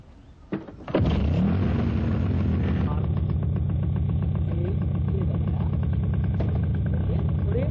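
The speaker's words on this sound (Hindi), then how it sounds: "आप जरा धीरे धीरे क्लच छोड़ा करें ना, रेस देके।" A car engine starts with a sharp rev, then settles into a steady, loud, close engine drone that runs throughout as the clutch is let out, with faint voices in the background.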